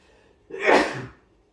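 A single close, sharp human sneeze bursts out after a quiet moment in a home kitchen during biscuit cutting, rising quickly and fading within about half a second.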